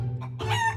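A cartoon chicken clucks in a quick, loud burst of squawking calls over a steady low hum. There is no talk.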